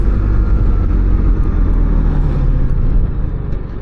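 A BMW R1300GSA adventure motorcycle on TKC80 tyres, heard on the move: a loud, steady engine drone with heavy low rumble and wind noise, close and continuous, easing slightly at the end, no talk.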